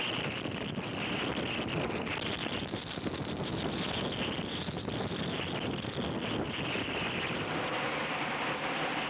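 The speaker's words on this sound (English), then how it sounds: "Imagine trying to shoot into the wind and rain." Steady roaring hurricane wind buffets the microphone with a dense wash of rain noise, constant and loud throughout, with no voices.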